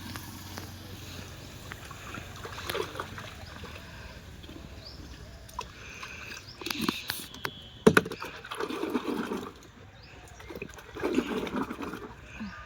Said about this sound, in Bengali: আগে এই জিনিসপত্রগুলো সাবান জলে বুড়িয়ে রাখি